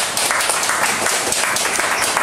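Loud, close audience applause at an election-reform symposium in Korea, many hands clapping in a dense, steady burst as a former prime minister is welcomed to the stage.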